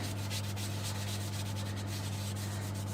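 Steady, scratchy sanding rubs against an Indian black bean wood bowl in quick repeated strokes over a constant low electrical hum, with no talking.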